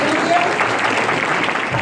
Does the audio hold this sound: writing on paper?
no